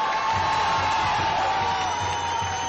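Theater audience at a Teatro del Pueblo show cheering and whooping as a loud crowd roar, with scattered clapping woven through, steady and sustained.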